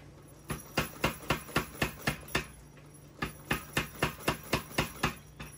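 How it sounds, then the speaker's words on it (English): A power hammer forges a hot old car axle in a blacksmith shop, delivering steady, evenly spaced blows in two runs separated by a brief pause, moderately close and without talk. "We're going to start out at the power hammer."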